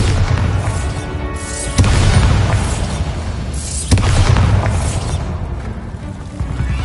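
A Bombarda blasting spell in Hogwarts Legacy, cast in underground tunnels, goes off as two heavy booming explosions about two seconds apart, each rumbling and fading under a dense, loud game soundscape.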